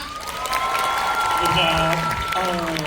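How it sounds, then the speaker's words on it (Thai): An audience claps and cheers at a Thai entertainment show, a sustained bed of applause under prominent voices that carry over the whole stretch. "ถ้าเห็นด้วย ปรบมือได้ไหมฮะ"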